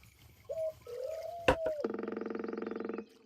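A woodpecker call in the Fishing Planet video game: a few clear tonal whistled notes, then a sharp knock and a steady rapid drumming trill lasting over a second, fairly close and loud in a quiet outdoor setting.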